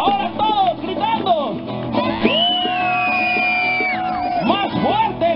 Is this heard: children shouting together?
yes